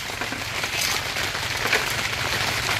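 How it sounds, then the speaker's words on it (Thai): Rain falls steadily around a house under construction, a soft continuous patter and hiss at low level with no talking. "ฝนตกลงมา"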